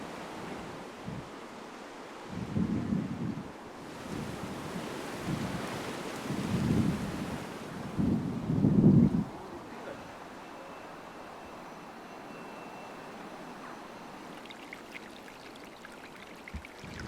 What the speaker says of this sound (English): On the 28th of August, Storm Lillian blew in, causing some light damage in the garden